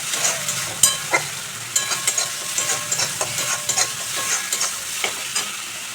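Ground cumin, coriander and Kashmiri chilli powder stirred and sautéed in a pan over low heat for Bengali prawn malai curry, with a soft steady sizzle broken by repeated sharp scrapes and taps of the spoon against the pan.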